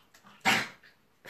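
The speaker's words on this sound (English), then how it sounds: "excuse my dogs" Dogs barking indoors, one loud sharp bark followed by quieter yips and a further bark at the end, close by with no talking over them.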